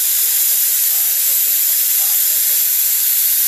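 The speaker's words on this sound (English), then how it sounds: "It's leaking right here" Compressed air leaks from a tank fitting that has loosened in the cold, a constant, close, sharp hiss filling the whole stretch without a break.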